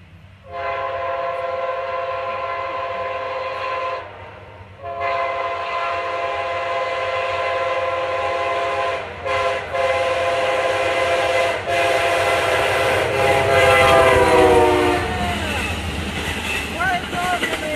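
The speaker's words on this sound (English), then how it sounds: "Got another train coming. And it's Amtrack." An Amtrak passenger train passes close by with loud, sustained blasts of its multi-tone horn, then a rumbling roll of wheels and cars, with a person speaking briefly nearby.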